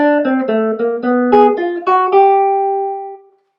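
A clean, mellow jazz guitar plays a short single-note line over a ii-V-I progression, about a dozen notes, ending on a sustained note that rings out and fades.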